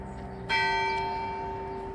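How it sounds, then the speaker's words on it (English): A single loud church bell stroke, struck close by near the home of Lewis Valentine. A bright metallic clang follows a quiet outdoor start, and its sustained hum rings on and slowly fades. "That fairly loud bell ringing."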